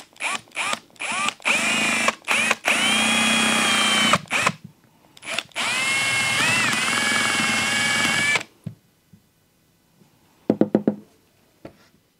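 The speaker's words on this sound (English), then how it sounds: "I wonder if I could try and drill a hole in the bottom here" A power drill whirs in repeated bursts while drilling a hole into cast resin, starting and stopping with short pauses, then a longer run, followed by a few light knocks and clicks.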